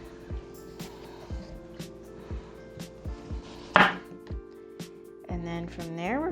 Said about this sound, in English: First thing I like to do is I'm going to chop off the ends.